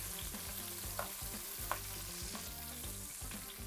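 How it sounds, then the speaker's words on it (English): Short ribs searing in a hot pan as they are turned: a steady crackling sizzle with a few brief clinks, over a low background hum and no speech. "I'm just turning these so that every side gets a good sear."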